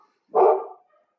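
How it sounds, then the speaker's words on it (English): A single short, mid-pitched bark from a dog indoors, fairly close and clear, alone against silence. "that's my dog barking."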